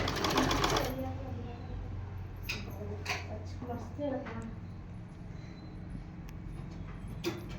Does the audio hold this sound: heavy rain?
no